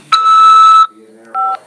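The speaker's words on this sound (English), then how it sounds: "After the beep, press 5 to accept this call." A prison phone system sounds its automated tones before an incoming call can be accepted: a loud, steady electronic beep, a short pause, then a second shorter tone, all clear and close with no voice over them.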